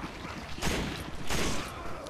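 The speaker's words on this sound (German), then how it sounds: "Boah, in den Hals geschossen." Two sharp, loud gunshot blasts in Resident Evil 5, spaced about half a second apart, each with a short noisy tail over a low background rumble.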